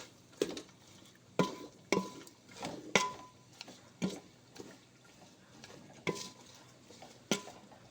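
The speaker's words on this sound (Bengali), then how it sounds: "এভাবে নাড়াচাড়া করতে হবে, অনবরত নাড়াচাড়ার মধ্যেই রেখে দিতে হবে" Chalta (elephant apple) pickle is stirred in a pan, with a spoon knocking and scraping against the metal in irregular strokes roughly every half second over a faint, soft background. There is no talking.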